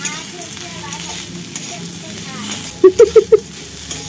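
Potato curry frying in a pan as it is stirred, a low sizzle with scraping under a voice, punctuated near the end by a few short tonal beeps.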